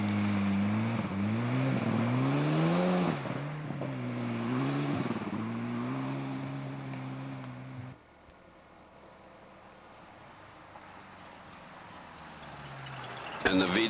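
Volkswagen Rabbit rally car on a forest stage at the 1989 Rally of the Tall Pines, its engine rising and falling through gear changes as it accelerates past, then fading away into the distance.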